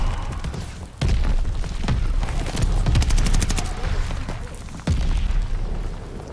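Dense bursts of gunfire and booming blasts in a war video game firefight, loud and continuous with sharp heavy hits near one and five seconds, rapid fire clustered in the middle.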